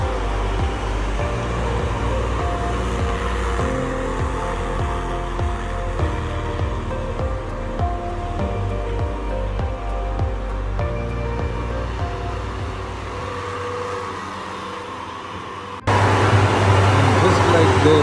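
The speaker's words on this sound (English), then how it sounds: "he has one bobcat inside the pool, and the second one is getting the soil, the gravel that he has already laid out" Two Bobcat loaders work through a pool demolition, moving soil and gravel and loading trucks. A steady, loud diesel engine rumble drones throughout, rising suddenly louder near the end.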